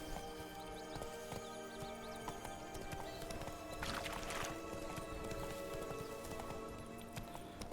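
Horse hooves clip-clopping steadily in the Witcher 3 video game, a continuous, close, even rhythm of hoofbeats with a brief brighter swell near the middle, under faint background game ambience.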